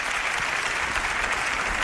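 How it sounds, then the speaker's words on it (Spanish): A short burst of audience applause, dense, even clapping from a seated crowd at a talk event, sustained at constant loudness. "Os pido un aplauso para ella"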